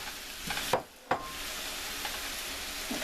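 Tofu sizzles steadily in a hot frying pan, a dense broadband hiss running throughout, broken by a couple of sharp scraping stirs near the start and a brief dip as it goes in.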